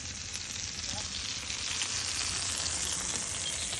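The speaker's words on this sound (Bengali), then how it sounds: "ইলিশ মাছ আর বেগুন ভাজা" Hilsa fish and eggplant frying in hot oil at a beachside food stall in Kuakata, a dense, continuous close sizzle and crackle that stays steady throughout with no talk.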